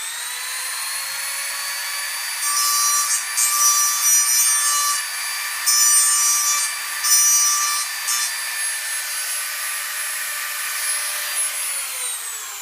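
A steady high-pitched motor whine runs throughout while a cutter bites into the wood of a model frame in several rough, grinding bursts, then eases back to the whine alone.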